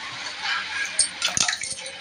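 One and a half glasses of water are poured into a pot of mixed fenugreek leaves and toor dal, making a short, hissing, splashy pour close by with a few gurgling bursts near the end.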